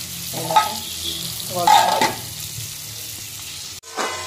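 Prawns fry in a pan with a steady sizzle and bursts of stirring and scraping, loud and close, with a sharp clatter near the end.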